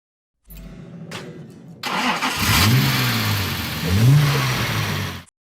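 A Jaguar E-Type's 3.8-litre inline-six engine starts with a short crank, then revs up twice, rising and falling in pitch, loud and close, with a steady idle between.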